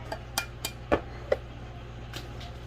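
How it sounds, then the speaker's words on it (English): A child cracks eggs against a bowl while making French toast, giving a few sharp, quiet taps and clinks spaced irregularly over a low steady background hum. "Break your eggs here, Gil."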